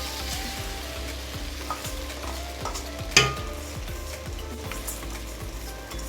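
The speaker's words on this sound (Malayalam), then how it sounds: "അരി ഇതിലോട്ട് ഇട്ട് നമ്മൾ മിക്സ് ചെയ്തെടുത്ത് ഒരു 2-3 മിനിറ്റ് ഒന്ന് വറുത്തെടുക്കണം" Soaked rice being stirred and fried in a pan for prawn biriyani, a steady sizzle with repeated scraping strokes of a spoon and one sharp clink near the middle, close and without talk.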